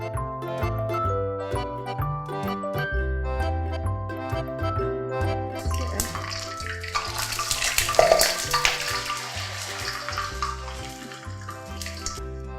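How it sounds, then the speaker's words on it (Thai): Rice vermicelli noodles deep-frying in very hot oil, a bright crackling sizzle swelling as the noodles puff, mixed with clinking utensils and a steady background melody. "เราก็จะมาทอดเส้นกันก่อนนะคะ น้ำมันนะคะต้องใช้แบบร้อนจัดๆเลยนะคะ"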